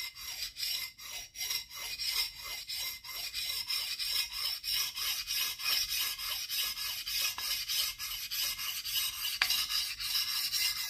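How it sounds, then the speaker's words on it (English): A knife blade is stroked steadily along the 1000 grit side of a whetstone, each pass giving a close, regular rasping scrape in an even back-and-forth rhythm throughout, with no talking. "We move on to the 1000 grit side, which is a lot finer, and you want to go at this with a little more finesse."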